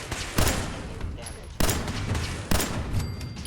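Three sharp bursts of gunfire from Fallout 4, loud and close, each followed by a short ringing decay, with a steady background rumble between shots.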